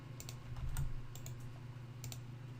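Light keyboard clicks tapping out a command at a computer during a Hadoop setup, a few quick keystroke clusters scattered over a steady low hum, fairly faint and close.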